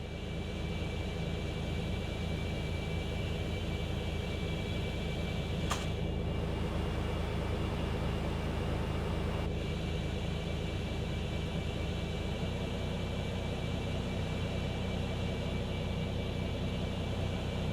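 A Concorde's engine spools up in the X-Plane 11 flight simulator, a steady droning jet roar with a constant whine, holding near and even throughout with a brief click partway and a slight drop in low rumble later.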